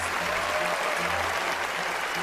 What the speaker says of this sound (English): Let's give this performance a round of applause.